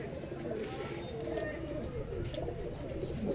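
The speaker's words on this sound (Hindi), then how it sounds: "बड़ा सलारा नर है ये सलारा टेडी" Teddy pigeons, an imported breed, cooing steadily in a busy loft, with low murmuring calls layered under continuous background noise.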